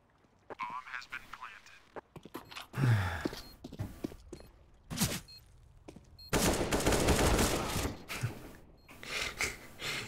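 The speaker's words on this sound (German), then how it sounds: "Wo schießt denn einer auf mich?" Bursts of automatic rifle fire in the video game CS:GO, including an AK, crackle in several rapid volleys, with a long dense barrage near the end and someone talking over the shooting.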